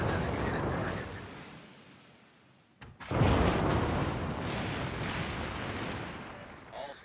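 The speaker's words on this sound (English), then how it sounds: "All stations, concentrate fire on the target." Naval guns fire on a target in a destroyer-versus-battleship video game: a heavy blast cracks out partway through and rolls into a long, loud rumble, with radio-style voices talking around it.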